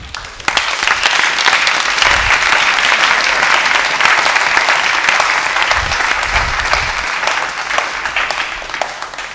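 Loud, sustained applause from a large audience of debaters honoring their coaches at a debate championship, dense and steady throughout with a few low thumps underneath.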